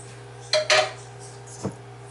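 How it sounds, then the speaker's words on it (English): Scooping egg muffin mixture into a cupcake tin for breakfast egg muffins: two close metallic clinks of a utensil against the tin in quick succession, then a softer tap a moment later, with no talk. "So whatever I have left over, I'm going to go ahead and put it in the cupcake tin. And so now we're going to start scooping."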